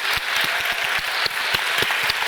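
A live audience bursts into applause for author Camila Sosa Villada at a literary conversation event, a dense, steady wash of many hands clapping close and loud for a couple of seconds, with no voices over it.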